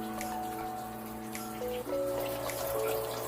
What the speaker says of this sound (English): you'll see it start dripping through these pots here